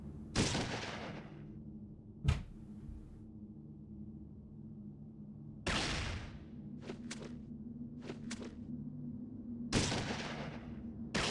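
Gunfire in a Fallout 2 mod: three loud broadband shot bursts spaced a few seconds apart, each followed by quick smaller cracks, with a sharp single crack between them over a steady low hum.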